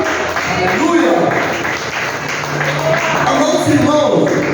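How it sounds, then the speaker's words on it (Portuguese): A church congregation applauds, producing a loud, sustained patter of clapping hands. Voices and singing-like tones run underneath and on top of the clapping. "Vamos aplaudir ao Senhor?"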